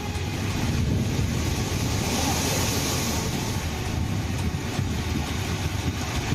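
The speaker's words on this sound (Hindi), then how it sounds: "समंदर में 10 फीट से ज्यादा ऊंची लहरें उठ रही हैं।" High sea waves over 10 feet tall surge during Cyclone Tauktae along the coast, heard as a dense, continuous roar mixed with heavy wind buffeting, loud and unbroken.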